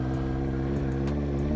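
A Kawasaki ZX9R motorcycle engine held at raised revs while rolling just past walking pace, a steady close drone with no change in pitch over the short moment.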